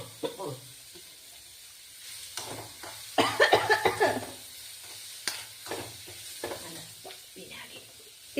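Salted, squeezed pineapple pieces are stirred in a hot pan for a sweet pineapple pickle, giving intermittent scraping and sizzling strokes with a louder flurry midway, close up over a quiet background.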